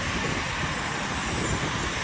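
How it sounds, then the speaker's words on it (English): An American Airlines jet approaching Maho Beach on St. Maarten, a loud, steady broadband engine roar close overhead with no talking. "Here comes an American plane."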